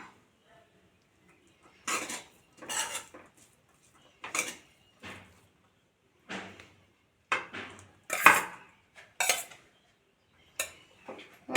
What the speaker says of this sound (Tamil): கொஞ்சம் கொஞ்சமாக சேர்த்து கிளறிக்குவோம்